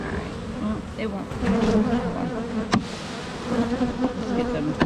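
A busy honey bee colony drones loudly up close while the hive is opened for inspection, a thick continuous buzz with occasional sharper passes of single bees and a few clicks of handling.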